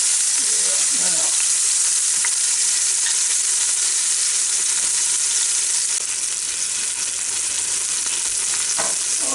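Beef pot roast sears in an Instant Pot, a loud, continuous hiss and sizzle with faint scrapes and clinks as the meat is shifted.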